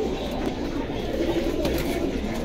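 Pigeons cooing at a pigeon market in Jinjira bazaar, a soft continuous murmur of coos set within a steady, busy crowd din.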